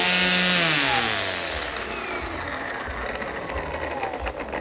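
An EGO 16-inch battery string trimmer spins up with a loud, high whine that settles into a steady buzzing drone, close by, with no speech.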